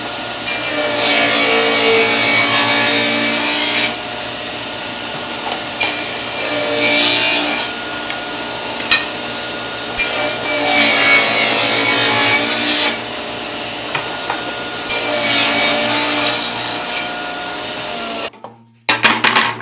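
Table saw ripping through a scrap piece of wood, several loud bursts of high whining cut noise separated by the motor's steadier hum, ending with the blade spinning down.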